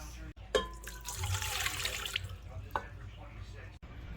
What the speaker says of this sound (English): First, we need to add 1 cup of warm water